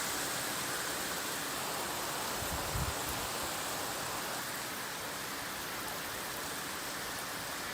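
Heavy summer rain with strong wind gusts through poplar trees during storm Patricia, a dense, steady roaring hiss that stays loud throughout, with one brief low thump partway through and no voices.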